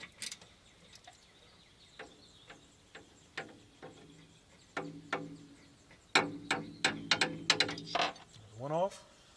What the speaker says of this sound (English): So now I can get the wrench in there because it's got a little space.